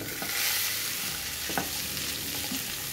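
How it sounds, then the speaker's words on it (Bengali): Peeled potatoes frying with butter and garlic in a pan, a loud continuous sizzle with a few scraping stirs, close and with no voices. "খুব ভালো করে নাড়াচাড়া করে মিশিয়ে দিচ্ছি"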